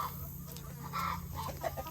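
Chickens cluck softly nearby in a few short, scattered calls over a low background hum.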